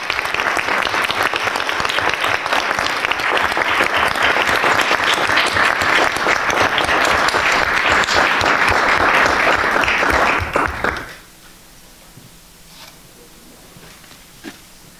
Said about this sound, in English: So if we can give the North High commended students a round of applause.